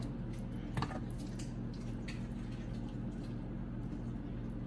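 Mild canned salsa verde glugs and drips softly as it is poured into a baking dish, with a faint utensil clink over a low steady kitchen hum.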